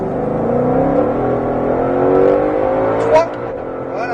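A Ford Mustang Shelby GT500 with 760 hp accelerates hard, its engine drone climbing steadily in pitch, loud and close, with a brief sharp noise near the end.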